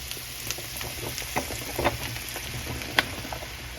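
Sliced bella mushrooms sizzle in a pan for a creamy mushroom sauce, a soft steady crackle with a few sharper pops and small clinks, quiet and close.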